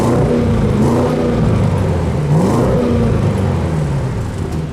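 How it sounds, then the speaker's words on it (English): An Audi S8's exhaust note rumbles steadily from the rear of the car, loud and close, with a rising and falling engine tone across several seconds and no talk over it. "The other item worth noting around back, though, is the exhaust note, which, as you can imagine for a car like this, sounds pretty good."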